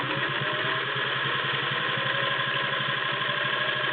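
A vintage Singer 401A Slant-O-Matic sewing machine runs close by, stitching zigzag with a fast, steady mechanical hum and regular pulses throughout.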